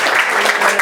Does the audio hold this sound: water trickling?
no